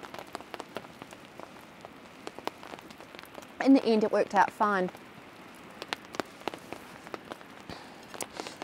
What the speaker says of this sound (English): wasn't really expecting to have to stop in the rain to have lunch